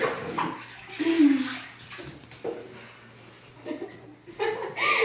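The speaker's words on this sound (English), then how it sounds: "And there's some left right there, so I'm going to keep washing them out." Water splashing and running in a bathtub as soap is rinsed off a cat, with intermittent sloshing bursts and brief voice sounds over the wet, broadband wash.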